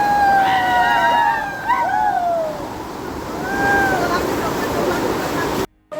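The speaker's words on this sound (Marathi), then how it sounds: "आणि इथं डोंगरवाडी धबधबा." Dongarwadi waterfall on an adventure trek, a steady broadband roar of falling water filling the whole clip, with excited voices calling out over it before a brief cut near the end.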